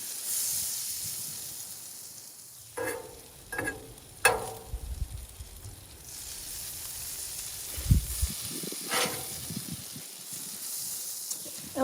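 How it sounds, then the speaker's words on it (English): Rice frying in butter on a Blackstone griddle outdoors in cold weather, a steady close hiss and sizzle with a few brief scraping or clanking accents from a spatula. No talking. "We want to fry our rice, right?"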